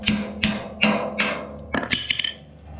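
Five sharp metallic hammer taps, one after another, drive a 21mm socket against a rubber bushing to knock it out; the rap of the blows comes close and loud and rings on briefly, with the last few quicker and lighter.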